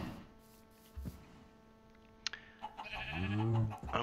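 An Invar cow mob in modded Minecraft gives a single drawn-out, bleating moo near the end, after quiet game ambience with a few soft clicks.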